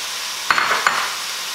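Chopped onion, about a cup and a half, hits browned meat in a pan for spaghetti sauce, with a steady sizzle and a couple of sharp stirring scrapes partway through.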